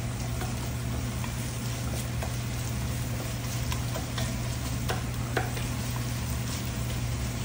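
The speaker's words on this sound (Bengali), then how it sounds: "গরম মশলা দিয়ে পেঁয়াজগুলিকে আগে একটু ভেজে নিলাম" Onions, ginger and garlic fry with garam masala in a pot for khichuri, giving a steady, continuous sizzle with faint ticks and crackles and a constant low hum underneath.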